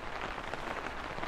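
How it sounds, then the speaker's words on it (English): Steady rain falls on a new day, a dense, even patter of drops hitting surfaces that continues without a break, fairly close and with no talking. "So it's a new day and it's raining."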